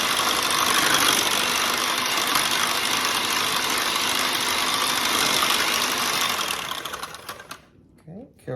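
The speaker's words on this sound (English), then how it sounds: "carefully blend that on low speed you have to keep it from going everywhere because it's so loose" An electric mixer blends loose cake batter on low speed, a close, steady motor whir that drones evenly for several seconds, then winds down and stops, leaving a few faint clicks.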